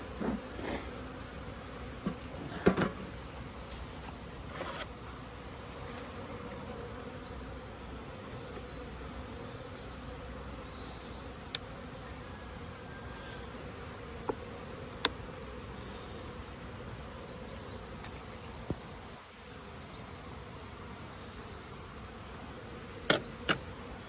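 Continuous low buzzing of many bees close by, with a few faint clicks and knocks scattered throughout.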